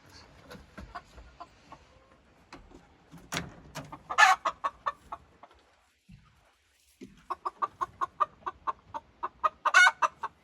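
Backyard egg-laying hens cluck in a series of close, rhythmic bursts, with a few louder squawks and a short pause midway before a quicker run of clucks resumes.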